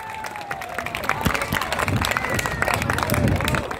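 Crowd at a Dumitrești commune festival applauds the mayor, with scattered clapping, cheers and background chatter mixing under a faint voice, fairly loud and continuous.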